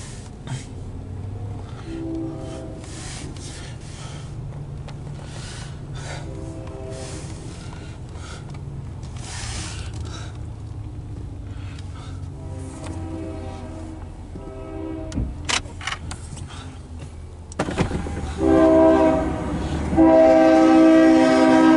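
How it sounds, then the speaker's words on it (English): A loaded CSX coal train rolls past with a steady low rumble and clatter, then sounds a loud, sustained horn blast near the end. "Here comes a loaded coal drag."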